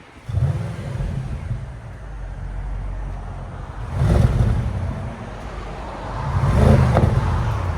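A stock-exhaust 4.0L twin-turbo V8 in a 2017 Audi S7 widebody gives a deep, steady rumble that swells in two revs, around the middle and near the end. It is fairly close, with no talking.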